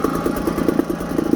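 A 1973 British Seagull 40 Plus outboard, a 4-horsepower engine, running at a steady idle with a rapid, even low putter and light mechanical clatter, close by and alone.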